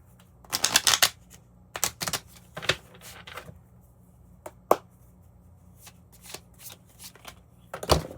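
Animal spirit cards being shuffled during a Scorpio tarot-style reading, a series of quick papery riffles and flicks in irregular bursts, close and fairly quiet, with no voice over them.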